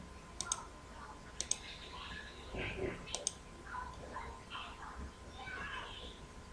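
Sharp mouse clicks come in small clusters while spreadsheet items are deleted on a computer, close and fairly quiet, over a soft background hiss with someone talking quietly between them.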